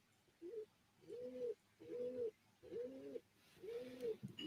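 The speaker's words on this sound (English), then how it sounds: "it's too quiet. He's gonna hear the owl." An owl hoots five times in a steady, evenly spaced series of soft low calls. The calls are faint against a quiet background.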